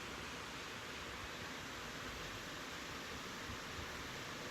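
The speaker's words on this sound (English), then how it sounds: "You can hear the river" A mountain river near Mt Shasta rushes past as a steady, broad hiss of flowing water, loud and unbroken throughout, with no voices.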